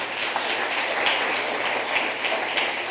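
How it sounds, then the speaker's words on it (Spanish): A congregation at a church service applauds in a dense, continuous wash of clapping that holds evenly throughout, with no voices standing out. "dale un aplauso al Señor"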